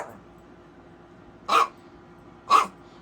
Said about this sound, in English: I am so sorry about all that little barking going on down there.